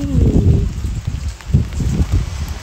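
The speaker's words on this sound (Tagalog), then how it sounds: "Lakas ng hangin." Strong wind gusts across a snowy outdoor scene in Japan in February, with buffeting rushes of wind against the microphone and rustling, loud and close, with no talking.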